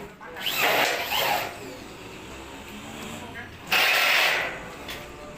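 A power drill drives bolts into a light steel roof frame for a cantilevered porch roof, two loud bursts of whirring, the first about a second long and the second shorter, with workshop noise between.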